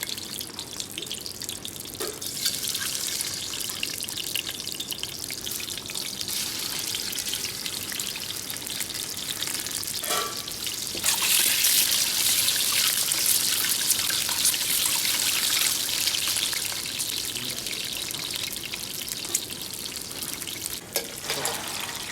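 Ingredients frying in hot oil in a flat-bottom pan for chicken and egg biryani, a dense, loud, continuous crackling sizzle that swells briefly midway.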